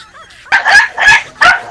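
A dog gives three sharp, loud barks close by, evenly spaced with short pauses between them.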